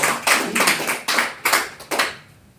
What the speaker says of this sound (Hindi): डॉक्टर लिम जोरदार तालियां चाहिए, मेरे फाउंडर CEO।